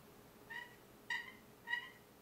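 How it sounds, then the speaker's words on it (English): A friction pot turkey call makes three short, soft purring yelps, evenly spaced and fairly close, over a quiet background. "Another call that is given is a purr call."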